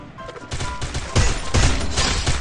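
Gunfire in the Free Fire game during a 4v4 match, a rapid fusillade of loud shots in dense overlapping bursts, close and continuous with no voices.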